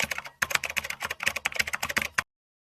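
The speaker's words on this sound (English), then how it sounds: "Type this formula." Fast typing on a computer keyboard, entering a spreadsheet formula to pull data from a PDF utility bill, with close, crisp irregular key clicks in rapid bursts for about two seconds, then silence.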